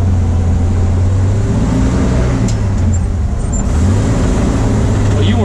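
A Studebaker pickup truck cruising at about 40 miles per hour, with a steady low engine drone and road rumble that continue throughout.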